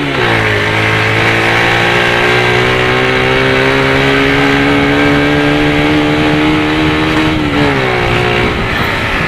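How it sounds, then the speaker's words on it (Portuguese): A motorcycle fitted with a modified Polimet exhaust and its air filter still in place revs hard through the gears from first, with a loud, close, steady drone that climbs in pitch and dips briefly at each shift. "só pra vocês verem o barulho que tá agora,"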